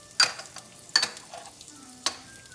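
A spoon stirs a butter sauce with sage, paprika and red pepper flakes in a pan, giving three sharp scraping strokes over a low sizzle, close and fairly loud.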